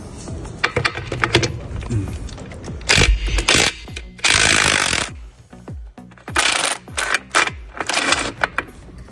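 A Vitals Master AT 1825 cordless impact wrench loosens painted-over wheel bolts, firing in several loud, rattling hammering bursts between clanks and handling noises, close by.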